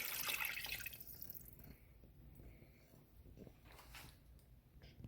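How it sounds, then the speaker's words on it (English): Water is poured into a cooking pot holding red lentils for a coconut curry, a faint splashing pour that trails off into quieter trickles and small drips. "Now let's get that water added in."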